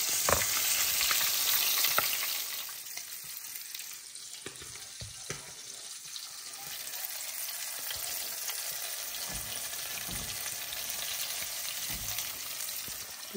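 Garlic cloves sizzle in hot oil on a stove, a dense crackling hiss that is loudest at first, then settles to a steadier frying sound with scattered pops, no voices.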